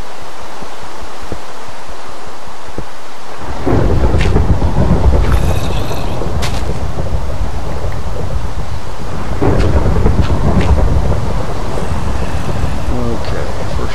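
Rain and thunder in the Minecraft world, a steady loud downpour rushing close around with low rumbling thunder rolling through after a quiet start.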